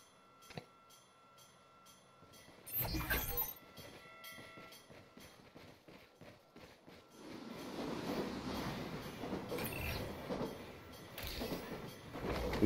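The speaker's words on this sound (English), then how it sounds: "Beware of trains." A train passes in the video game Lost Planet 2, heard as ticking clicks and a brief loud burst that build into a sustained, rumbling rolling noise; no one speaks.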